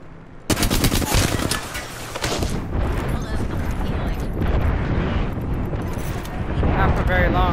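Sustained automatic gunfire from a firefight in the battle royale game Apex Legends, with dense rapid bursts and booming shots running continuously throughout and a voice speaking over the shooting.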